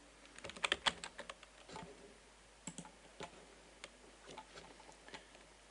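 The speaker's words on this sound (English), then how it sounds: "Now you can type the new name in the corresponding field" Someone types a folder name on a computer keyboard in the Philips SpeechExec Pro software, with a quick cluster of close keystrokes followed by sparser, irregular clicks in a quiet room.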